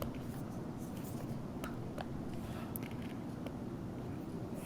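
Pen drawing on a graph while sketching a vertical asymptote, faint scratchy strokes with a few short ticks over steady background hum.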